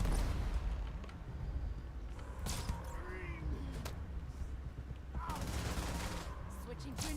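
Rapid bursts of sci-fi gunfire in the video game Starfield, a companion unloading on enemies in a firefight, with quick, fairly faint cracks and volleys scattered across the stretch.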